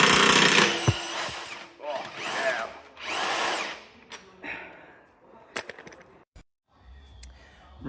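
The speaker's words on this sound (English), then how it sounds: "See if the D-Watt will undo an Ecoboost crank pulley." A DeWalt power tool works on a Ford 1L Ecoboost crank pulley in three loud, whirring bursts, each a second or so long, followed by quieter clinks and handling noises.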